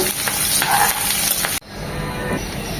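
Chopped onion hits hot oil for a chicken curry with tomato and potato, a loud, dense sizzle that drops abruptly midway and settles into a quieter, steady frying hiss.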